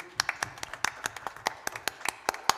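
Scattered applause from a small group, uneven claps tapping out irregularly, fairly close and moderate in loudness.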